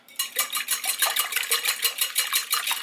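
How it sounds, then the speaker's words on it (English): Two eggs whisked briskly in a bowl for a pinto bean pie, a fast steady run of close, rhythmic scraping and tapping strokes with no voices. "We have 2 eggs that I'm going to whisk."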